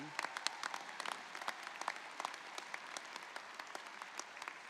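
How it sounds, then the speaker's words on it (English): Audience at a university commencement ceremony applauding the Spartanburg Philharmonic musicians, a steady wash of many hands clapping with sharp individual claps standing out, somewhat distant and soft, sustained throughout. "will you please give them a round of applause for their musical contribution to the celebration?"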